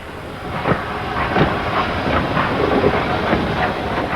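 A steam locomotive hauls a loaded coal train through a Nottinghamshire coalfield line, a loud steady rumble and hiss with rhythmic chuffs and wheel clatter.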